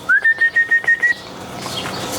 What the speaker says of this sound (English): And there's our longtime bird companion, Chili.